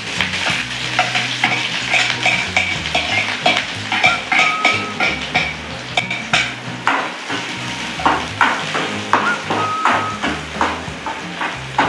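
Chopped onion and green chili sauté in a pan, a continuous close sizzle punctuated by rhythmic spatula scrapes and taps against the metal throughout.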